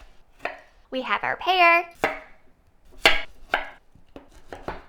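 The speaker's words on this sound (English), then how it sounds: "All of our fruit is roughly chopped besides the cranberries." Fruit such as orange and pear being roughly chopped for sangria, a few sharp knife strikes on a board heard between and under a person speaking.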